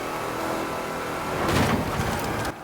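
A 2012 Shelby 1000 on its stock engine at speed in Forza Horizon 4, a loud steady engine drone that swells and rises in pitch midway before cutting off abruptly near the end.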